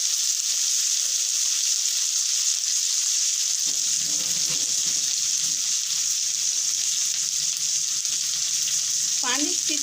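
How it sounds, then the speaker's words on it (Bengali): Beef liver frying in hot oil with onions, a loud steady sizzle that deepens and bubbles as a splash of water is added, with stirring noises toward the end. "তেলটা ছিটে তার জন্য একটু পানি দিয়ে দিলাম"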